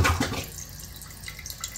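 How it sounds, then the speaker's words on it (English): Water hisses and trickles steadily as a toilet tank refills through a newly installed Fluidmaster Performax fill valve, a continuous close wash that starts a little louder and settles to a softer, even flow. "Okay, so it's refilling."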